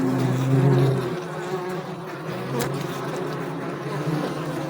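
Wild bees buzz in a dense, continuous drone around a beehive, with individual insects droning close by at times.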